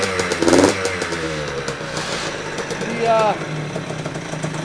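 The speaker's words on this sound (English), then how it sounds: "motor sounds good, everything sounds awesome" A Yamaha YZ85 dirt bike engine, freshly built and still breaking in, runs close by with a steady idle and a few throttle blips, while a person talks over it.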